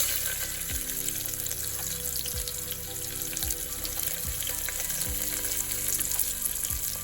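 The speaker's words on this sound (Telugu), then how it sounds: "ఇప్పుడు వచ్చేసి ఆనియన్స్ 1 చిన్నది తరిగి వేస్తున్నా ఇలా చిన్నగా" Finely chopped onion frying in hot oil with cumin, mustard seeds and dried red chillies, a steady dense sizzle, close and constant, with a few faint low thumps underneath and no speech.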